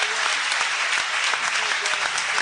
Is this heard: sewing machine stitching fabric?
no